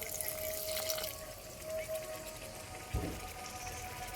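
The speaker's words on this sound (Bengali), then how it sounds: "এই পর্যায়ে বন্ধুরা অল্প আমি জল দিয়ে দেব" Water added to a pot of mutton being braised in spices, a soft trickle and splash running for about a second, then quiet kitchen background with a faint steady hum and one small knock near the end.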